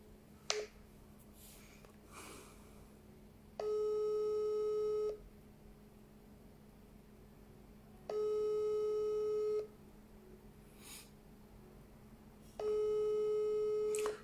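A telephone call rings out on the line: three long, evenly spaced electronic tone bursts of about a second and a half each, clear and steady over a quiet background with a few faint clicks.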